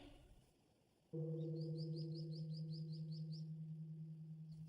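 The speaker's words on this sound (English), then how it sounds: "the birds are still singing" Repeated bright bird chirps in a quick series, fairly faint, over a loud steady low hum that starts after a quiet moment.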